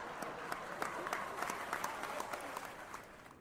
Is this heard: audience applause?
yes